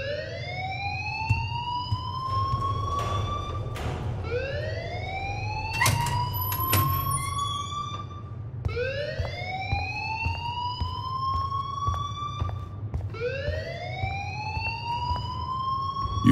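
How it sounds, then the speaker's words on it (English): A school alarm in the video game Life is Strange wails in repeated rising siren sweeps, about four cycles, steady and loud, with a few clattering sounds under it midway. "please turn off that alarm since that's your job."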